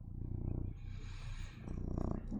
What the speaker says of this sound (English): Oh, is it purring ASMR time?